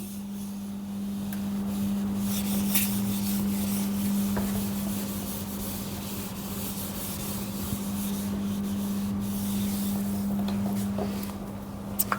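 Writing being rubbed out, a steady close scrubbing and rubbing that carries on almost without pause over a constant low hum.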